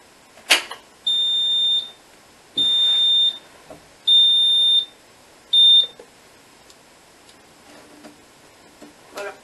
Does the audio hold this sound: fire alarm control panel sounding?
yes